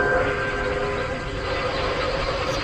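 In a spider-themed multiplayer horror video game, a train rolls along with a steady, loud mechanical rumble and rattling drone that continues without a break, with no voices over it.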